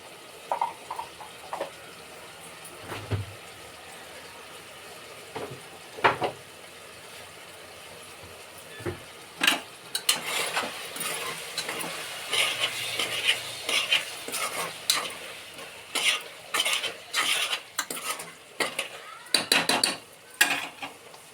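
Ginger paste fries in a pan with a soft sizzle, sparse at first, then busier stirring and clinking of a spoon against the metal pan, close and fairly loud.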